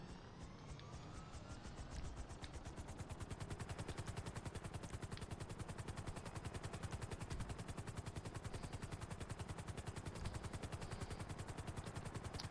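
Rapid, continuous chopping and firing from a jet and a helicopter in GTA 5 Online, loud and steady throughout without a break.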